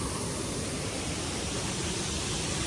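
Abbe Falls waterfall makes a steady, dense roar of rushing water. It is a continuous wash of noise heard alone, fairly distant and even in level.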